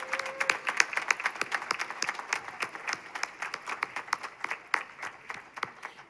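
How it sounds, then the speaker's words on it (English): Audience applause for students at an annual human relations student awards ceremony, steady moderate clapping from a crowd heard at some distance, rhythmic and continuous throughout. "Let's give them another round of applause,"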